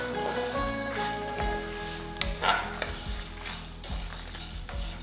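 Fresh coconut pieces sauté in a pan over a medium flame, sizzling and crackling steadily with rhythmic scraping stirs and occasional sharp pops, close and alone.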